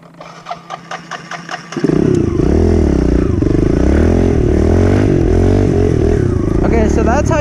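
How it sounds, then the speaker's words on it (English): A dirt bike engine lifts into a clutch wheelie: a light idling putter and clatter, then a sudden loud, sustained rev that holds with wavering pitch, close to the microphone. "that's how you wheelie with the dirt bike with the clutch"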